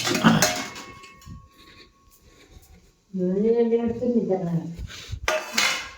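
A plate handled in a home kitchen, with clinks and clatter of dishes near the start and again at the end. A voice speaks in between over a quiet background.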